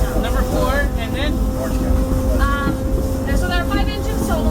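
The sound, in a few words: Disneyland Railroad train engine running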